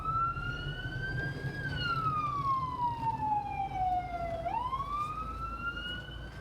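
A loud emergency siren wails, its pitch sliding slowly down and then sweeping back up, over the rumble of nearby road traffic.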